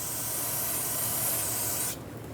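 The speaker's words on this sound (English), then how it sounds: "go ahead and clean it up with brake parts cleaner" Brake parts cleaner sprayed onto a brake caliper while rear wheel cylinders are replaced on a 2006-2011 Honda Civic, a steady close aerosol hiss lasting about two seconds before cutting off abruptly.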